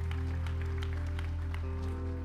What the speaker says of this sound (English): Give our worship team a big round of applause